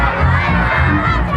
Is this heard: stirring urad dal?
no